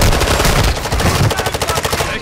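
Loud, close automatic gunfire in Call of Duty: Modern Warfare II rattles out in a fast steady burst, with a deep boom at the start and the shots tapering off at the end.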